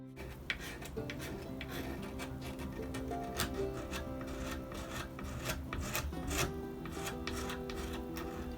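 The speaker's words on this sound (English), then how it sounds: "here I'm using the blade from Stanley Knife just to scrape off the black" A Stanley knife blade scrapes black paint off wooden table legs, a continuous rasping scratch in quick repeated strokes, close up with no talking.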